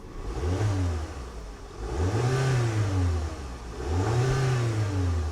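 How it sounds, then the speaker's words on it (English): A used car's engine revved three times during an inspection, each push rising into a strong vroom then easing back toward idle, heard up close with a steady hum between blips and no voices. "Let's rev it up a little bit and see how it sounds."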